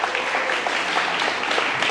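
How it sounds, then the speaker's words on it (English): Audience applause at a startup pitch competition in a theatre hall, a steady dense clapping wash lasting about two seconds with no clear voices over it. "And big applause for our partners"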